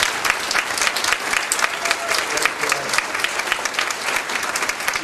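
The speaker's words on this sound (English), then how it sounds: "Let's give them a round of applause." A crowd at a student leadership recognition banquet claps steadily and fairly loudly throughout, with dense, continuous applause and faint voices underneath.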